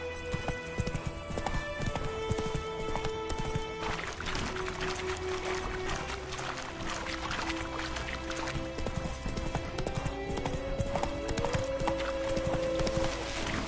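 Roach, Geralt's horse in The Witcher video game, clip-clops along in a brisk, steady hoof rhythm that stays close and clear, with game music and ambient effects layered underneath and no talking.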